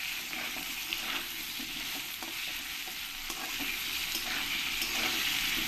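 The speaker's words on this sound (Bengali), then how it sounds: "আলুগুলো ভালো করে আমি লাল লাল করেই ভেজে নেব।" Diced potatoes tossed with salt and a little turmeric fry in a pan, giving a steady, dense sizzle with occasional stirring scrapes, close and continuous with no talk.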